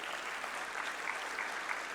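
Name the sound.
audience applause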